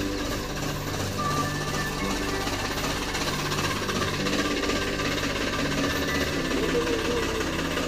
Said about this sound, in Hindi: यहाँ पर खड़ा करेंगे ट्रैक्टर को।